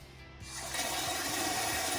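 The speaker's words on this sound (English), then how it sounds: "The bidet has two options, nozzle cleaner and wash." A bidet's nozzle cleaner runs on a toilet seat, a steady hiss of spraying water that starts after a brief click and holds evenly at close range, with no voices.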